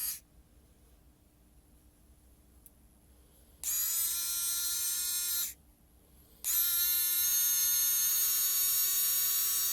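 A JM-8193 3.7V electric screwdriver driving a screw: two bursts of high, whining motor buzz, a shorter run then a longer steady one after a brief pause, close and loud with no talk.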